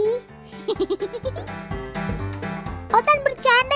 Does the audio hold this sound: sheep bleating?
yes